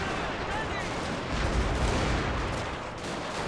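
Artillery fire in a video game battle, with a dense, continuous rumble of booming gunshots and volleys at steady loudness throughout, and a brief swell in the middle.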